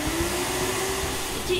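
A household vacuum cleaner runs steadily close by, a constant whining drone with a faint tonal hum throughout, some low rumble underneath.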